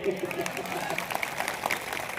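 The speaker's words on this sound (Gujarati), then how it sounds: "તમારે બધાએ હું કહું પછી તાળી પાડવી પડશે" Applause from an audience at the inauguration of a Prajapati community hall in Anjar, a steady patter of many hands clapping throughout with voices mixed in.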